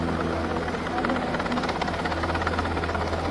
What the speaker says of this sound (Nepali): बाढीमा फसेको घरमा माथि छतमा फसेको एउटा बच्चालाई चाहिँ हेलिकप्टर आएर उद्धार गर्दैछ